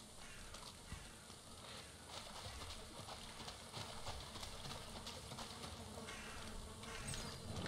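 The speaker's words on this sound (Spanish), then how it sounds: "Hay abeja." Bees buzz in a swamp area of the video game Valheim, a steady insect drone that runs alongside busy game noise for the whole stretch.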